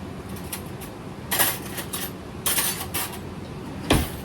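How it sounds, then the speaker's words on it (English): Metal IKEA silverware stirs food in a dish, giving a few sharp clinks and scrapes against the container in irregular bursts, close and moderately loud with no speech. "with my IKEA silverware, I'm going to stir it."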